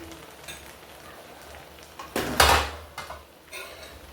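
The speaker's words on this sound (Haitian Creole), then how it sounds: "Quand on va brasser les légumes." Vegetables being stirred in a cooking pot, mostly faint scraping with one loud burst of clanking against the pot partway through.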